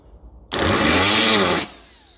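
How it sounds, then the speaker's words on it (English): A Dremel rotary tool grinding a metal registration plate for a 1954 Ferguson 20 TEF tractor, one loud, close, high-pitched whirring burst of just over a second that starts abruptly and then cuts off as it winds down. "I think maybe we'll just get the Dremel at this."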